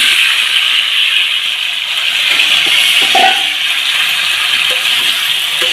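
Cut potatoes dropped into hot oil in a wok set off a steady, loud sizzle and bubbling hiss that runs the whole time, with small clinks from the pan now and then.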